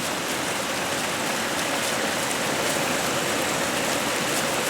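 Heavy rain pours steadily outdoors onto a yard full of potted fig trees, a loud, dense, unbroken hiss of water with no pauses.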